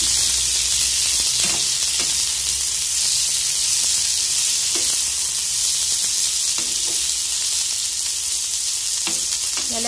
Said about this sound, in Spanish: ya con el aceite caliente vamos a estar agregando lo que es la cebolla y el chile. Vamos a moverlo para que se fría un poco